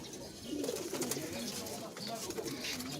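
Domestic pigeons cooing in a rooftop loft, a steady run of low, rolling coos from several birds close by, with a faint voice in the background.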